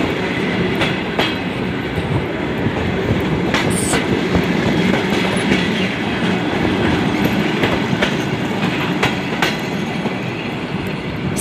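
A passenger train pulls into Shetpe station, a loud, steady close rumble of rolling carriages with rhythmic wheel clacks and occasional metallic clicks, no voices.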